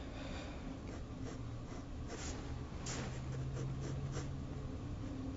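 Charcoal pencil drawing shadow shapes on paper gives a soft, quiet scratching of repeated short strokes, close and faint against a hushed room.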